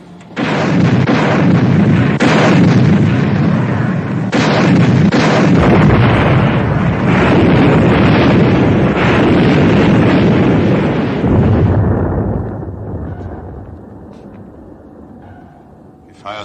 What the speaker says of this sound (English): Mr. Ware, set depth charges to 100.